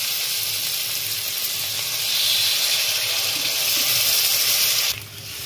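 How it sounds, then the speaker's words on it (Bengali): Water pours steadily into a cooking pot of taro and fish curry, a continuous rushing hiss that swells slightly before cutting off near the end. "এবারে আমি জল দিচ্ছি।"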